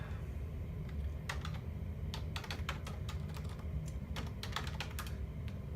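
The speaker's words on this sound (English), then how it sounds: "You'd want to type in your favorite websites." Close, steady tapping on a computer keyboard in a quiet room, irregular clusters of light clicks over a low background hum, with no voices.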